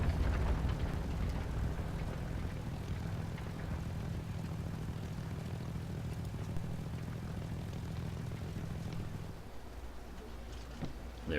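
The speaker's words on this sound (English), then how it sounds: "as I'm applying the brakes to pull the plane up, the engine fails." In a historical battle video game, a Bf 109 G6 fighter's engine drones steadily under wind noise, then drops off near the end as the engine fails.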